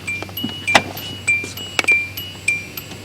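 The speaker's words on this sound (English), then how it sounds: "There's a bell in the dash of this car." A mechanical bell in the dashboard of a 1986 Hyundai Excel chimes for an open door, repeating a few clear, evenly spaced dings inside the quiet car.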